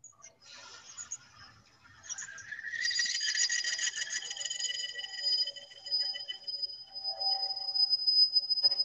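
A drill bit bores into a pen blank with a rising high-pitched whine and scraping as the cut begins, quiet at first and growing steadier and louder.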